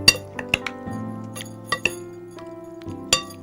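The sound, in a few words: mixing fish marinade in a bowl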